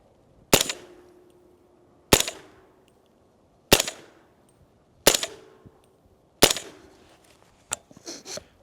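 Five suppressed rifle shots through an AAC 30 caliber suppressor crack out at steady intervals about 1.5 seconds apart, each with a short fading tail. A fainter, sharper report and a brief clatter follow at the end.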